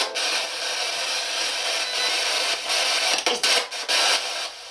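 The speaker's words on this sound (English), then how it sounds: "This Spirit Box will skip through radio channels." A spirit box sweeps rapidly through radio channels, producing a continuous loud static hiss broken by short choppy bursts and dropouts as stations flick past.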